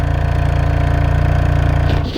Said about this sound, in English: the exhaust tip covers are pretty aggressive, and listen to the rumble